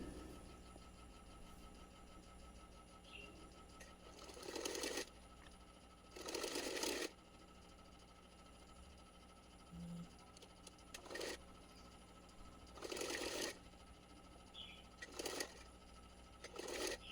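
A sewing machine stitches the edges of fabric for a small Krishna dhoti, running in several short bursts of one to two seconds, separated by quiet pauses, at moderate loudness with no talk.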